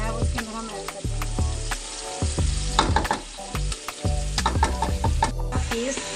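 Onions frying in hot oil until golden brown for kadhi pakora, a loud, dense sizzle with frequent clacks and scrapes of a spoon stirring against the pot, close up and continuous.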